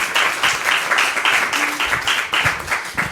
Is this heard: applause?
yes